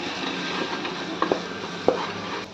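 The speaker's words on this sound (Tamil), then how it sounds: "இப்போ நல்லா எல்லாமே வந்து சேர்ந்து வதக்கி விட்டுடலாம்." Vegetables for coconut rice are stirred and sautéed together in a pan, with a steady low sizzle and a few soft scraping knocks of the spoon against the pan, and no voices.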